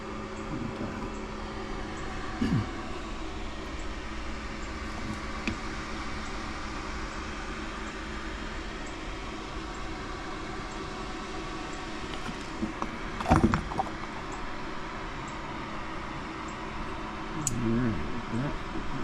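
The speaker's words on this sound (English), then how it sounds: "if you can hear me over my air compressor" Air compressor running in a motorcycle workshop during Honda VF750F Interceptor carburetor removal, a steady droning hum in the background with a few sharp clinks and knocks of tools, no talk.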